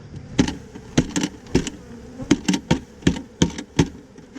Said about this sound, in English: wasn't a very big swarm